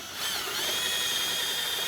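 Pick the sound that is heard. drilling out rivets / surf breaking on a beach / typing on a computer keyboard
drilling out rivets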